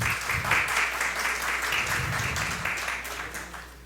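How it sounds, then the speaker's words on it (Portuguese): Dense applause from a lecture audience, a steady wash of many hands clapping that fades slightly toward the end. "a doutora Rose Ramires, uma salva de palmas para ela."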